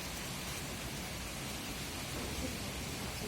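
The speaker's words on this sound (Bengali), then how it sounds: "অবিরাম বৃষ্টি ঝরছে, প্রচুর বাতাস দেখতে পাচ্ছেন" Heavy rain and strong wind from Cyclone Remal make a steady, dense broadband roar that holds evenly throughout with no clear voices.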